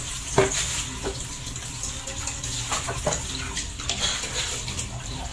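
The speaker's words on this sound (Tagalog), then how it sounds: "Atin lang hugasan ng konti kasi inuulit ko rin naman ito bago lutuin" Freshly bought market produce rinsed by hand under running tap water in a sink, a steady close splashing with occasional knocks and clinks of vegetables and a bowl.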